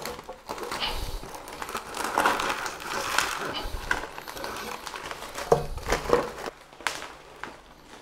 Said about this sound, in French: je vais juste devoir rajouter un peu de substrat de ce côté-là pour caler